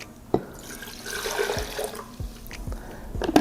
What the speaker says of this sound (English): we can just go ahead and pour our water back